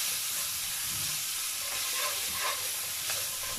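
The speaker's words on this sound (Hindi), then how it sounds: "मसाला ये देखें फ्राई हो रहे हैं हमारे स्पाइसेस" Spices and chopped mint frying in oil in a pan, a steady, close sizzling hiss with faint stirring scrapes, no voices.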